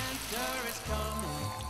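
Boiling water is poured into a pot outdoors while a doenjang stew with beef brisket is being prepared. A short, close gurgling pour rises in pitch as the vessel fills.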